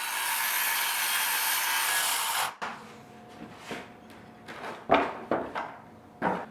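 A saw cuts out a wooden frame for resin work, a loud continuous buzzing cut that stops abruptly, followed by a series of scattered knocks, scrapes and thumps of wood being handled.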